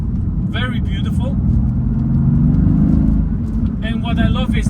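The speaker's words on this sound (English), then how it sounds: "It's the power output from this M177 engine, very beautiful." Sports car with an M177 engine, its steady low engine drone running continuously throughout while a person talks over it in short bursts at the start and end.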